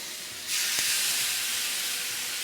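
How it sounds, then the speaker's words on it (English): Chicken breasts laid on a grill sprayed with coconut oil, giving a sudden loud, steady hiss of sizzling that holds close and continuous. "You can hear that sizzle."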